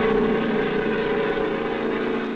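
Fairotodyne compound VTOL aircraft, engines and rotor roaring in a constant, loud, dense drone that stays steady throughout with no voices.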